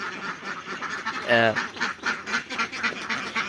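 A single loud duck quack rings out close by on a duck farm amid a low murmur of other farm sounds and distant talk.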